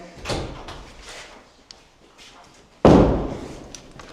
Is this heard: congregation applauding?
no